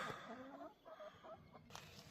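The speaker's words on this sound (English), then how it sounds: "They got some chickens." Soft clucking from chickens on a family farm, faint and a little distant, with a few short calls over a low outdoor background.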